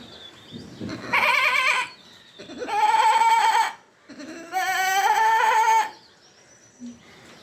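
A voice mimics a goat bleating in a different tone, three quavering calls in a row, fairly close and clear.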